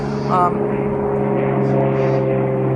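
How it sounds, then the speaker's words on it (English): A propeller airplane drones steadily overhead, a continuous engine hum with a low harmonic throb that holds at an even, moderately loud level, heard on a hot, humid jungle hiking trail. "Wait for the plane."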